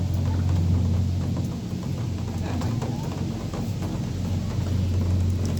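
Steady rain falls outdoors at a garden park in Berlin, giving an even, continuous hiss with a low rumble underneath and no clear voices.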